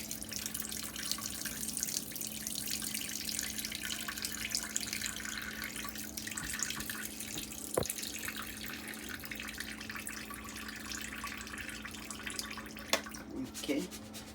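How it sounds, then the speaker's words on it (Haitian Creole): Water runs and splashes steadily while rice is rinsed for Haitian black rice (diri djon djon), a continuous close wash with a voice briefly heard. "jeter de l'eau."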